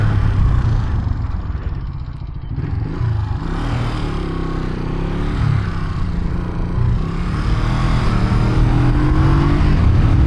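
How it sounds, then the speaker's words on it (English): A 1973 Honda CL350 motorcycle accelerates hard for a wheelie, its engine a loud, close, rough drone that climbs in pitch and holds steady for about ten seconds with no talking. "I will try to wheelie it."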